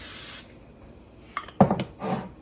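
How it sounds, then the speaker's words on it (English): Short hissing bursts of cooking spray misted over pizza dough on a baking pan, one brief spray near the start followed by several close, uneven spurts and rubbing sounds. "I forget that this pizza dough likes to be sprayed."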